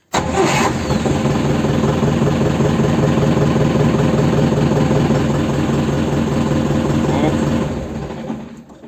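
A Dongfeng 404 diesel tractor engine cranks and fires after an oil change, then runs loud and steady for about seven seconds before fading out as it stalls.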